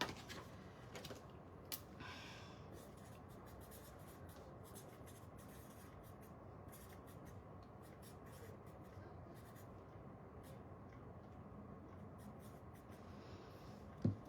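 A pen writing on paper, soft continuous scratching strokes with a few faint taps and rustles, quiet and close in a calm room, no talking.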